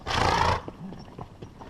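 A Pasafino Choctaw Mustang cross horse lets out one short, loud whinny, followed by a few faint, scattered sounds nearby.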